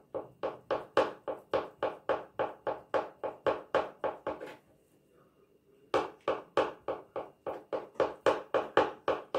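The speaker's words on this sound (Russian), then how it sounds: "Яйца тоненькими полосочками нарезаем" Steady rhythmic knife chops slicing boiled eggs into thin strips on a cutting board, close and even-paced, pausing briefly midway before the quick slicing resumes.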